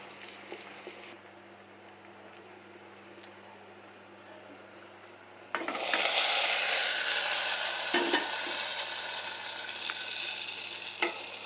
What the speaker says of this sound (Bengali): এখানে আস্ত মরিচ দিয়ে দিলাম আর দুটা কেটে দিলাম পাঁচফোড়ন দিয়ে দিলাম